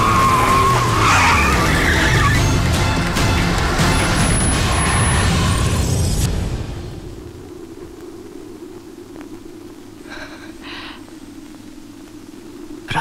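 A car races and skids in a film scene: loud engine roar with squealing tires for several seconds, then it cuts to a quieter low rumble with faint distant noises.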